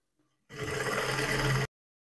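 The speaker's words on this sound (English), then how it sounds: "as you sew along, make sure that you are slow and steady with it so that you can get a nice finishing" A sewing machine stitching a contour skirt runs in one short, steady burst of close mechanical whirring lasting just over a second, then stops.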